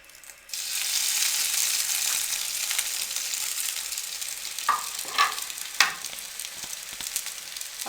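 Potato nuggets coated in egg and breadcrumbs sizzle and crackle steadily in a hot frying pan, the sizzle starting abruptly as they go in, with a few louder pops and spatters near the end.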